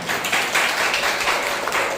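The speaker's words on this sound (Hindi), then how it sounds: "एक जोरदार ताली बजाना" A Sunday service congregation gathered for a church picnic breaks into hearty applause, dense continuous clapping from many hands at close range, rising and falling slightly across the moment.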